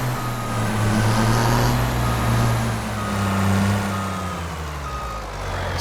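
Heavy truck engine idling steadily in Farming Simulator 25 on a lawn care job site, a loud low rumble throughout with reversing beeps and vehicle noise around it.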